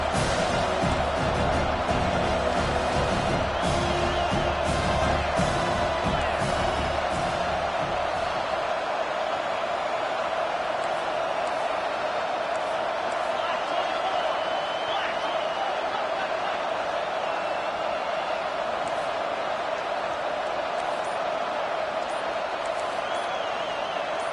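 Stadium crowd roar in an NCAA college football video game, a loud continuous wash of noise that holds steady for the whole stretch, with a lower rumble dropping away partway through.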